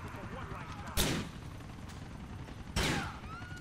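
Two sharp, loud gunshots crack about two seconds apart during a shootout in the video game GTA IV, each bursting out over a low, busy game background.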